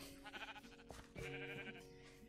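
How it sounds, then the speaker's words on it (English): A sheep bleats in a video game, a short wavering cry layered with game effects and a thump, faint and brief. "Did I just ram through a sheep?"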